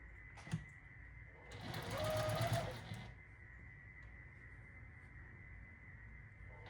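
A finicky sewing machine stitches quilt block seams in one short, soft, close whirring run of about a second and a half, over a steady background hum in a quiet room.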